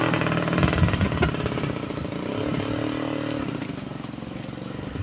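A motorcycle being ridden up a slope at a countryside hut, its engine droning loud and steady with a rough revving texture throughout, voices faintly underneath.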